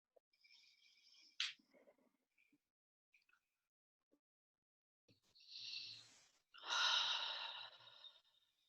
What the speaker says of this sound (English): So we can hear each other breathe.